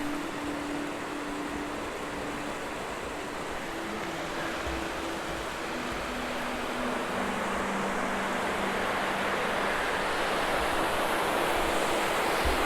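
Steady rushing water of the Baker River fills the scene, a continuous broad roar of a flowing river that grows slightly louder toward the end.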